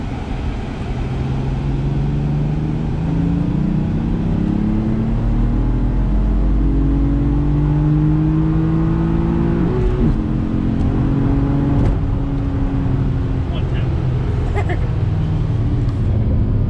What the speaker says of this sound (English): I'm kind of curious to see if the turbos start to die out at high RPM.